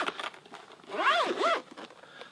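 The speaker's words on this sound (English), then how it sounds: "Zips up nicely." A zipper is pulled closed around a waterproof hard case for a DJI Spark drone, making a quick, close, rasping double stroke over light background noise.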